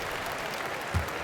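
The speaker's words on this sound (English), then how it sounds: "it's certainly got everybody on their bench up and off their seats and cheering" A virtual arena crowd in NBA 2K17 cheers and applauds after an emphatic dunk, a steady, moderately loud roar with a brief swell near the end.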